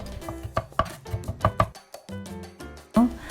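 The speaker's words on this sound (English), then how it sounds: "Crush garlic with a knife on a chopping board and finely chop it." A knife chops crushed garlic on a chopping board in a kitchen, with a series of sharp, uneven taps set against tonal background sound and occasional voice.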